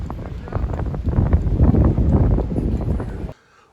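Strong wind on Route 66 near Williams, Arizona, buffets the microphone in heavy, uneven rumbling gusts for about three seconds, loud and close, then cuts off abruptly to near silence.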